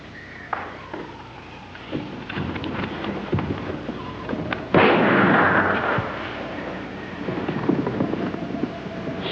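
A single gunshot in a jungle setting, a loud sudden burst midway that rumbles and fades over a noisy outdoor background with scattered cracks.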